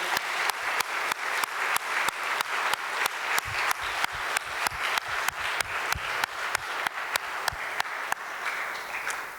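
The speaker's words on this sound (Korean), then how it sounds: "하나님께 감사와 영광의 박수 올려드리겠습니다." A church congregation applauds steadily throughout at a pastor's installation service, a dense wash of clapping punctuated by sharp, evenly spaced claps in a quick regular rhythm, with no voices over it.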